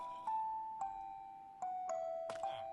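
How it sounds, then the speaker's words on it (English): Minecraft music disc from version 1.21 playing in game, a sparse, ominous melody of soft chiming bell-like tones with lingering sustains, quiet and alone. "something I like a lot more are the new music discs"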